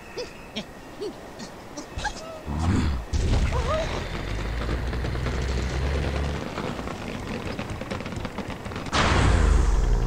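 Bomb explosion in the mobile game Angry Birds 2, a deep rumbling boom that holds for several seconds with a second heavy burst near the end, loud against the game's background sounds.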